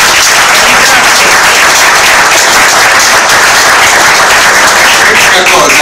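Loud, close applause from an audience at an evening cultural event devoted to poetry, dense and continuous with voices mixed into the clapping.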